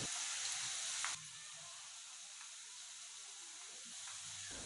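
Onion pakoda batter drops into hot oil, giving a soft, even sizzle and hiss that settles after a brief louder burst at the start, faint and without talk.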